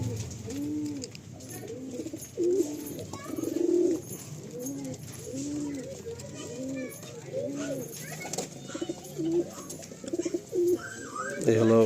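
A pigeon coos in a steady repeated rhythm, close and clear, with faint background voices and ambient noise.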